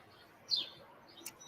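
Backyard birds around feeders give a couple of short, thin chirps, one near the middle and another toward the end, faint over soft outdoor background.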